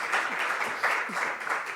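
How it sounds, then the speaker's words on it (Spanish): Audience at a journalism tribute event applauding for a reporter in a brief, even burst of dense clapping with no voices over it. "Un fuerte aplauso para Lorena, que ya ha actuado de reportera"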